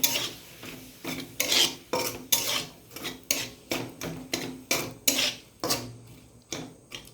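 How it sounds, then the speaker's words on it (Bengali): Onions scraped and stirred around a pan with a spatula, a steady run of about a dozen rasping strokes in close rhythm, each with a sharp scratchy onset, no voices. "এবার আমি পেঁয়াজটাকে একটু নেড়ে নিয়ে"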